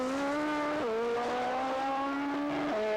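A funny bike drag racing motorcycle makes a solo run at a 1986 IDBA event in Warner Robins, Georgia, its engine wailing steadily with two sharp pitch drops at gear shifts.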